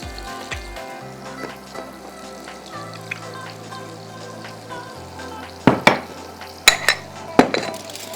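A spoon mixes mango salsa with salt, crushed black pepper and lemon juice in a bowl, mostly quiet scraping and stirring that ends in several sharp clinks of utensil against the bowl.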